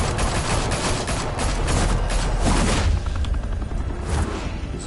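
Rapid gunfire from the video game Batman Telltale, a loud continuous volley of shots and bursts that eases slightly toward the end.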